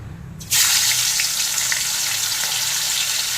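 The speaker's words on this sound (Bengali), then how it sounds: "মাছগুলোকে উল্টে পাল্টে ভেজে নিচ্ছি" Hilsa fish drop into hot mustard oil and burst into a loud, sudden sizzle that settles into a steady close frying hiss with small crackles.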